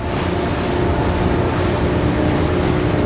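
Sea Hunt Gamefish 28, a 2024 motorboat, running at about 34 to 35 mph near 3,400 RPM, gives a steady, loud engine drone with rushing water and wind noise throughout, no pauses.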